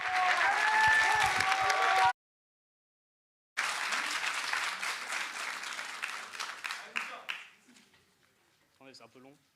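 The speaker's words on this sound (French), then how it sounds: "un tonnerre d'applaudissements pour notre deuxième candidat" Thunderous audience applause for a contestant at a French student thesis-presentation competition, dense clapping that cuts off abruptly, resumes after a silent gap, then thins into scattered claps and fades as a voice speaks briefly at the end.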